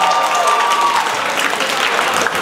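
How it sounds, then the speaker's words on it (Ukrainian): Dense, steady applause from a pub audience at a band's concert in Rivne fills the whole stretch, loud and close with no pauses. "тобі також оплески"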